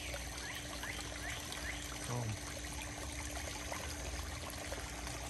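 Water being pushed back into a garden pond, a quiet steady trickle and pour with faint birdsong and a low background hum, a brief word spoken near the start.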